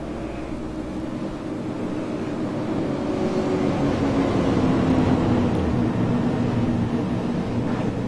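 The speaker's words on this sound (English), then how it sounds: "love to hear their engine, the whine of that engine that just really pumps the blood up" Super late model stock race car engines drone and whine at a racetrack, building from a low rumble into a louder, sustained roar with a rising tone, heard without talk.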